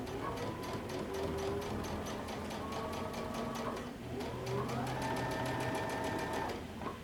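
Sewing machine running steadily while stitching a folded sleeve hem close to the edge on a dress, a continuous mechanical whir that pauses briefly near the middle and then resumes at a slightly higher pitch.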